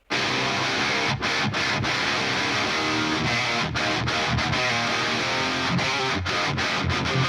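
A loud, saturated metal guitar riff blending Maxon OD808 and Fortin Blade overdrive tones, with driving chugs and short staccato stops, full and dense, played without any talking.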